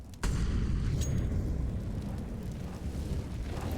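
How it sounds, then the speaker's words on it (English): A flashbang grenade explodes in CS:GO on the Vertigo map during a pro match, a sudden loud bang followed by a sustained low rumbling roar that fades slowly. "That flashbang is designed to take the attention."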